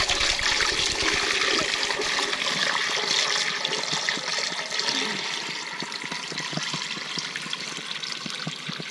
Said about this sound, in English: get water in here.